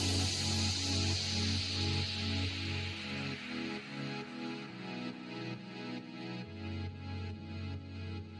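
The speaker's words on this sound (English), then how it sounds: "I want to do is wash this initial bit out with a reverb." Faint house music with guitars, its opening washed out by a vintage concert hall reverb, plays quietly with sustained low tones and a gentle rhythmic pulse, no voices over it.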